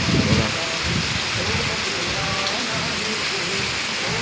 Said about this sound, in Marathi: आणि कंटिन्यू पाऊस चालू आहे.